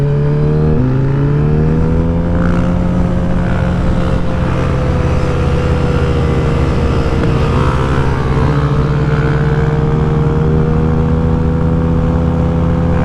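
A motorcycle doing a wheelie holds a loud, sustained engine drone, its pitch climbing slightly after a brief dip. The close, continuous revving runs without pause for the whole stretch.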